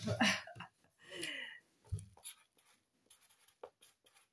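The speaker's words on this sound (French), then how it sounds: "Donc je vais l'écrire dessus." A pen scratches across a card close to the mic in short strokes with pauses between them. There is a breath and a few soft handling noises, and no speech.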